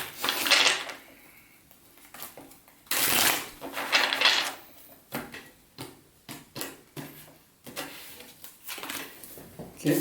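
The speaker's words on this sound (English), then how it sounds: "Shuffle here 2 more times for you and then we'll get started." Tarot cards being shuffled by hand, several bursts of crisp riffling and flapping, with louder shuffles near the start and around three to four seconds, then lighter uneven taps and card handling.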